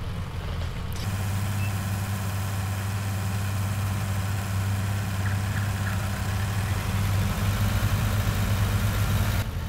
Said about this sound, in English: this tractor struggles quite a bit too, especially when it's got this on the back.